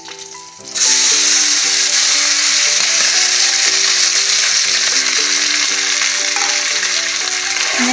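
Star fruit dropped into hot oil for an Assamese sweet-sour dish sets off a sudden, loud, steady sizzle that continues close-up throughout, with faint music underneath.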